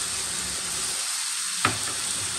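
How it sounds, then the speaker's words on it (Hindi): Fried pasta chips tossed with masala in a hot pan give a steady close sizzle, with one sharp scrape of stirring partway through and no talking. "फ्राई हो चुके हैं, अब ये मसाला डाल दें सारा, मिक्स करें"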